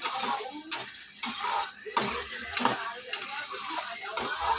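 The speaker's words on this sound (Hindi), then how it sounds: "अब इसमें हम डालने जा रहे हैं कच्चा मटर। इसको भी हम अच्छा से भून लें।" Carrots and raw peas sizzle in a pan, stir-fried for fried rice, while a spatula scrapes and clinks against the metal in irregular strokes. The sound is close and moderately loud, with no speech over it.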